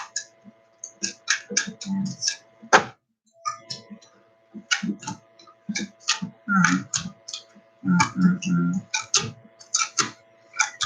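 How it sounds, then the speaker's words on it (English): A deck of tarot cards is shuffled up close in quick bursts of crisp, rapid flicking and riffling, broken by short pauses. "I'm going to shuffle 2 more times"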